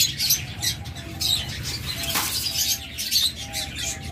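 A DNA-sexed pair of olive opaline pet birds chirps in a shop, with short bright tweets and calls repeating in quick bursts over a low background hum, close and fairly loud.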